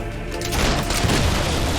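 A deep mortar blast from the Fable 3 battlefield rolls into a rumbling explosion, loud and close, with a crackle of distant fire trailing off.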